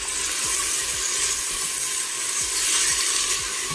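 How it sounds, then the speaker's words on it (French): Lentils browning in a pot for lentil soup give a steady, close sizzle with soft stirring scrapes and faint clicks, continuous and moderately loud with no talking. "je rajoute mes lentilles et je continue à faire dorer"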